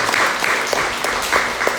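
Brief rhythmic hand clapping from a congregation praising God at the close of a Pentecostal church service, steady and moderately loud, with voices mixed into the clapping.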